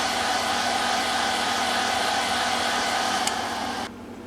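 A heat gun or hair-dryer-style blower warms hot hide glue in a crack on a Martin HD-28 guitar, giving a steady, close airy whoosh that holds even and then cuts off near the end.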